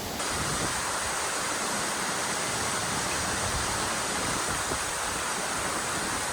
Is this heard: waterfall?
yes